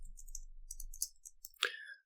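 A handful of light, quick clicks from a computer keyboard, faint and close in a quiet room, arrive in short irregular bursts, with a slightly sharper keystroke near the end.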